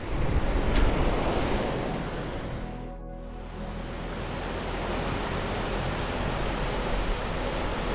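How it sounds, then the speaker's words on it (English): Strong, steady wind roars across an exposed Lake District fell near Stickle Tarn in the Langdales, buffeting the microphone as a dense, continuous rush that dips only briefly midway. "It's quite blowy up here."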